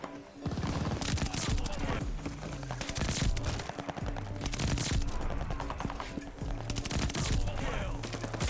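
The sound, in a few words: suppressed gunfire with Mercury silencer in Call of Duty Vanguard video game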